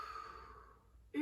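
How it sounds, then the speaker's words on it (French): A person doing a Swiss ball Pilates exercise lets out a long, audible exhale, a soft breathy sigh fading over about a second, close and alone, before a voice starts at the very end. "On souffle, on remonte."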